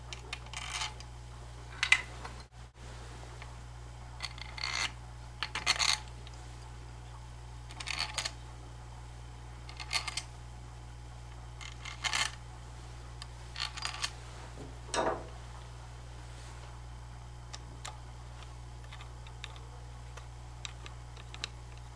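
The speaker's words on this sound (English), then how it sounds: "we're now going to replace the pump head and replace the 6 top screws" Six top screws are driven in while a pump head is refitted on a power mixer: faint, quiet clicks and short ticking bursts recur every couple of seconds over a low steady hum.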